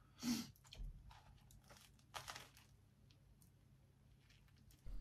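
Biting into and chewing a Greggs festive bake, with a crisp crunch of flaky pastry near the start, another crunchy bite around the middle and quieter wet chewing between, close and fairly faint.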